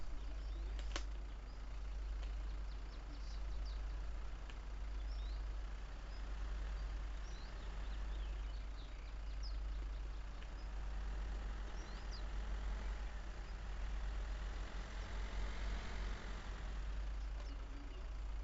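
Car in the video game Rust straining as it gets stuck on a slope, a low continuous engine drone with rumbling and faint scraping throughout, steady and moderately loud with no voices.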